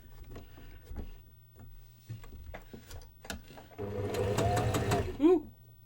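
A domestic sewing machine sewing a number 5 straight stitch runs in short bursts between quieter handling clicks, then races fast and loud for about a second before a rising whine as it stops, with a voice talking at points.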